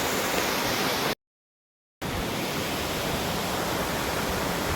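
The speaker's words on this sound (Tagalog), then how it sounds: "Ito na yung unang falls. Mas mataas siya." Tenogtog Falls in Mayoyao, Ifugao, a loud steady roar of falling water heard close, broken by a brief cut to silence before the same dense rush resumes.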